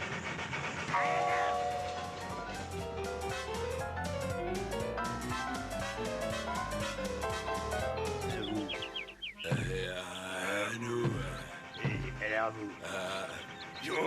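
A cartoon train rolls along amid music, wheels clattering and a whistle sounding, fairly loud and continuous with shifting tones, ending in a busier burst of noise.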